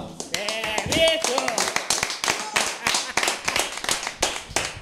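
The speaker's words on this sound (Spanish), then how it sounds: "Un fuerte aplauso" Hands clap in a quick, sharp rhythm in a radio studio, loud and close, with voices talking over the claps at the start.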